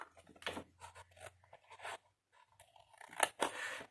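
Scissors snip through paper for a large document folder in a series of crisp, close cuts with short pauses between, fairly faint and with no talking.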